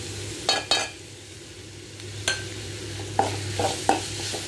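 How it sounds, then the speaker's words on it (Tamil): Green chilies and ginger garlic paste frying with onions in a pan, a steady soft sizzle broken by several sharp stirring scrapes of a spoon against the pan, close by with no talk. "இப்போ வெங்காயம் நல்லா வதங்கணும்னு நம்ம எடுத்து வச்சுருக்க பச்சை மிளகா, இஞ்சி பூண்டு பேஸ்ட்டு சேர்த்திடலாம்."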